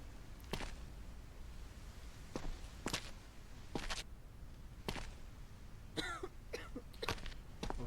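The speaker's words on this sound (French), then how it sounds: "Oh là là, madame elle tousse." A woman in a video game coughs several short times, spaced apart over a steady hiss, fairly faint and a little processed, ending in a quicker cluster of coughs.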